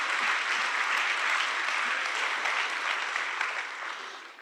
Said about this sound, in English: So let's just take a moment and a quick round of applause.